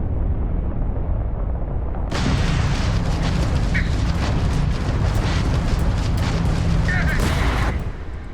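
Repeated blasts and booming gunfire from shooting at a ship in Starfield, a dense loud barrage that starts abruptly after a quieter rumbling stretch and continues for several seconds before cutting off.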